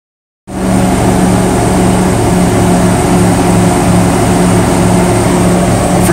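A 1978 Chevrolet El Camino's engine cuts in after a brief silence and then runs steadily on the road, a loud, even drone of the motor while driving, with no talking.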